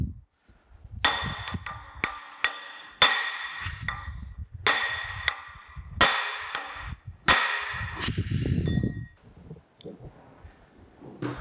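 Long steel bar used as a punch, struck repeatedly with a hammer to knock loose a brazed or welded part on a sugar cane mill: about seven sharp ringing metallic clangs at steady intervals, close and loud, with a low rumble between strikes.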